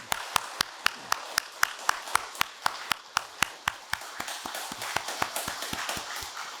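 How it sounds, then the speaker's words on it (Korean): Church congregation clapping in unison to encourage volunteers at an early morning prayer service, a steady rhythmic beat of sharp, evenly spaced claps that carries on and slightly quickens and softens near the end. "우리 격려의 박수 하겠습니다"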